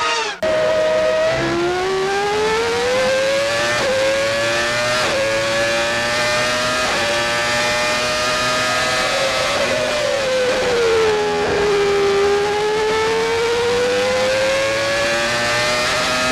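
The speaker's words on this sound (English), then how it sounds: "Renault V10 Formula One engine, music to the ears of millions of fans around the world" A Renault V10 Formula One engine screams past at Imola during the 1995 San Marino race, a sustained high-pitched wail rising and falling through gear changes, loud and continuous with no commentary over it.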